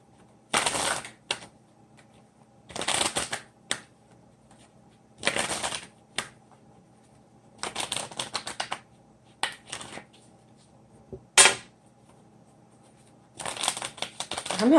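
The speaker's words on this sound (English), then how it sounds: "I'm having a hard time shuffling your cards," A deck of tarot cards being shuffled in repeated short riffling bursts, about seven separate rounds with quiet pauses between, close and crisp.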